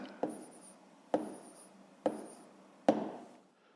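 A pen writes a math division answer on paper in four quick strokes, each a short scratchy burst followed by a fading scrape, evenly spaced and close by.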